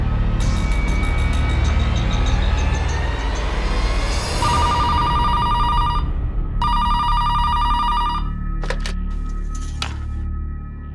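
A telephone bell rings in several long, steady bursts with short gaps, over a constant low rumble of traffic.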